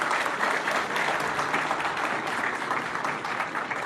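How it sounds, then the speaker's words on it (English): Sustained audience applause at a formal speech event: a dense, even wash of many hands clapping for about four seconds, with no voices standing out. "Please give a big clap."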